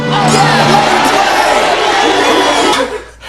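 A large crowd cheering and whooping loudly, a dense roar of many voices sustained for about three seconds before fading at the end.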